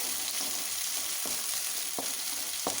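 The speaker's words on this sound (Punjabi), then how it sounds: "ਇਹਦੇ ਵਿੱਚ ਪਿਆਜ਼ ਪਾ ਦਾਂਗੇ ਪਿਆਜ਼ ਨੂੰ ਵੀ ਥੋੜੀ ਦੇਰ ਲਈ ਭੁੰਨ ਲਾਂਗੇ" Onion frying in a pan with toasted cumin seeds for a vegetable vermicelli dish, giving a steady, close sizzle with a few sharp stirring scrapes and no talking.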